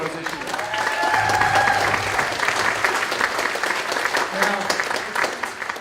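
Convention audience at a Vermont Democratic gathering applauds steadily for several seconds, a dense, sustained clapping that swells and lingers, with a few voices and cheers mixed in.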